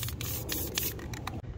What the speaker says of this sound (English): Let's clean out our tip a little bit, spraying on the ground.